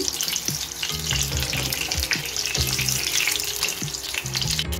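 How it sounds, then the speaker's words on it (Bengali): Chicken reshmi kababs fry in a pan over medium gas, a loud continuous sizzle with spatter and repeated light clinks and scrapes throughout. "উল্টিয়ে 2 পাশ ভালো করে ভেজে নিচ্ছি"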